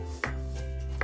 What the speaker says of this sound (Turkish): muzlarımızı doğruyoruz.